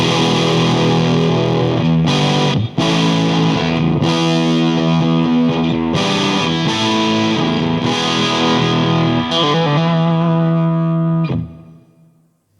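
Electric guitar played through a Windmiller preamp pedal with a fuzzy, distorted tone, loud sustained chords and notes ringing out alone before fading away at the end.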